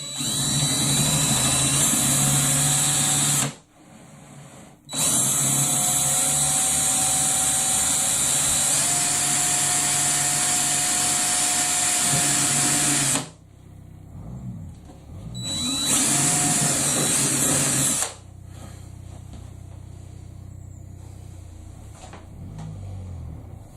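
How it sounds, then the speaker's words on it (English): A power drill boring a pilot hole while fitting a Loc-line flexible sparge arm into an Igloo insulated cooler mash tun, heard as two long, loud whining runs and a shorter burst, with brief pauses between. "I'm just going to drill a pilot first."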